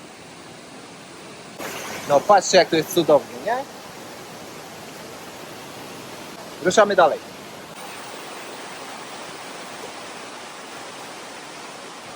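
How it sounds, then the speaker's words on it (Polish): A waterfall at Plitvice Lakes gives a steady, even rushing roar that fills the whole stretch, while a person speaks briefly twice over it. "Tu już taki konkretny wodospad, co?"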